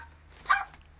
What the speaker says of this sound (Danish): Det er så min hund, der står der og bjeffer af.